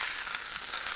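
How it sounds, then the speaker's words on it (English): A burger patty sears in a hot pan with a brief, even, close sizzle and no voices. "it's going to sear and get that flavor that we all want"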